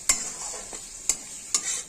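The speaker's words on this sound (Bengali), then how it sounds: "মশলা ভাজার সময় এইভাবে আপনারা অল্প একটু জল দিবেন, তাহলে মশলা আর কখনো লাগবে না" A masala spice paste sizzles in a pan as a spoon stirs it, three sharp scrapes cutting through a steady close hiss.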